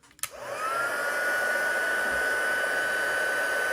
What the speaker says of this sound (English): let me get my heat tool